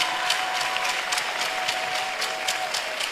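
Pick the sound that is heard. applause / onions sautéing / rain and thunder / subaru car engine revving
applause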